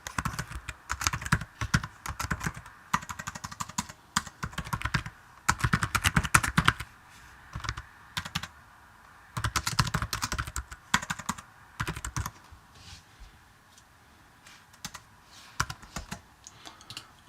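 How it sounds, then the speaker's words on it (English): Typing on a Mac computer keyboard, close and steady, with bursts of rapid key clicks broken by short pauses and occasional single taps. "Now I want to write something in here"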